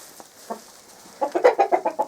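Chickens cluck in a quick series of rhythmic, close clucks building after a couple of isolated sounds, with no talk.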